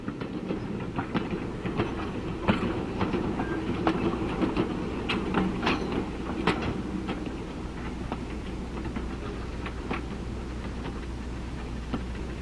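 A train rolls over a stretch of broken track, its wheels setting up a steady rumble broken by sharp, irregular clacks and ticks, loud and sustained with no talking.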